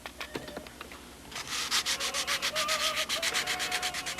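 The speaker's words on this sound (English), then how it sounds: "I'm just sanding out the hard edges" Sandpaper rubbing the CA-glued hard edges of a Spitfire model, first a few light scattered strokes, then a fast even run of rhythmic back-and-forth scrapes, close and fairly quiet.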